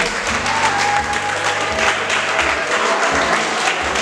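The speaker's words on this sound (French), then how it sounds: "Applaudissons pour le collège." An audience applauds a school at a Bas Fleuve schools' excellence podium ceremony, with dense, steady clapping that holds for about four seconds and no voices over it.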